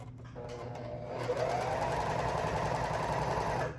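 A sewing machine stitches over the frayed edge of a silk flag, its motor starting up and settling into a fast, steady mechanical whir with rapid needle clatter, close and continuous.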